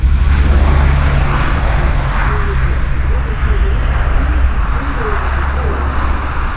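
A military transport aircraft, a C-130 Hercules at CFB Comox, touches down on the runway and brakes, its engines a loud, steady roar throughout, with a voice talking over it.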